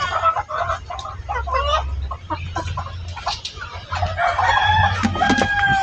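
Chickens cluck and a rooster crows nearby, overlapping calls in an irregular flurry over a low background hum.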